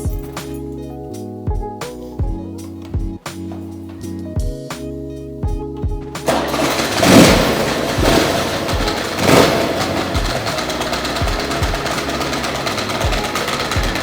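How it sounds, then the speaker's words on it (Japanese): A Zero Engineering Road Hopper motorcycle engine with a new battery cranks with a few sharp bursts, then catches and runs steadily with a loud, continuous rumble and periodic revs. "ちょっと最後にエンジンをかけてみたいなと思います。"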